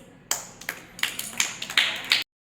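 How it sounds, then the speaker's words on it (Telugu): Children clapping in a classroom: around seven sharp, separate claps in an uneven rhythm, close and fairly loud, ending abruptly. "Very good. క్లాప్స్."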